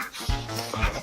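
A Belgian Malinois dog, about 85 pounds at seven months, gives a couple of short nasal whimpers close by, with faint background noise and no talking.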